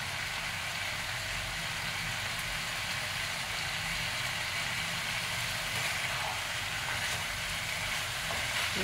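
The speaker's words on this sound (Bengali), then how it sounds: "টমেটো কুচি দিয়ে এটাকে বেশ করে কষিয়ে নিতে হবে।" Chicken with chopped tomato and slit green chili for lal jhal chicken sautés in a pan, giving a steady, close sizzle and crackle that holds throughout.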